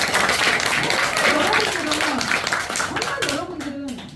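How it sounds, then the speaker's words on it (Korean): Audience clapping at a Buddhist dharma talk, a steady wash of applause filling the room for several seconds while a voice speaks over it, thinning toward the end. "박수 한번 쳐주세요."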